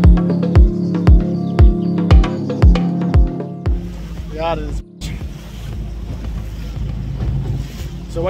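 A rented motorboat out on the sea off Castellammare, Italy, starts with a run of evenly spaced heavy thumps from the hull or engine, then gives way to a constant wash of wind and water noise.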